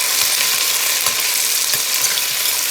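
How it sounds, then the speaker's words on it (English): Onions hitting hot oil in a pan for Ghana jollof rice, a loud, steady crackling sizzle with no voices. "my oil is already pretty hot. I'm going to add my onions."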